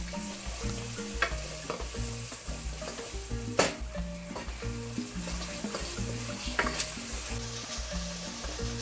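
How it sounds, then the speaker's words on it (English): Diced garlic and tomato paste sizzle in a pan for a pork stew, a continuous frying hiss broken by the repeated scrape and clatter of stirring, with no voices. "So I'm going to be frying this for like 3 minutes."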